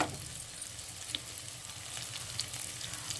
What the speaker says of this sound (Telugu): ఇంకా టమాటా కూడా ఫ్రై అయింది కదా